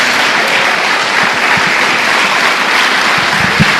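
Loud, dense clapping fills a church as the congregation gives a round of applause to Jesus during a Portuguese-language sermon, continuous and even from start to finish with scattered sharper claps near the front.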